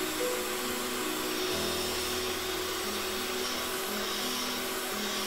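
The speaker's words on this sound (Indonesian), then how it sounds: "Kita kocok pertama-tama dengan mixer kecepatan sedang." Electric mixer whipping chilled cream at medium speed for homemade chocolate ice cream, a steady close whirring motor hum with small pitch shifts, running alone with no talk.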